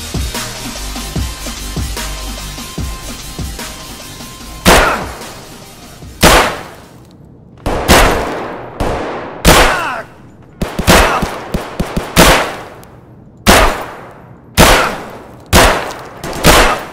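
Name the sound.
gunshots at helmet in Escape from Tarkov video game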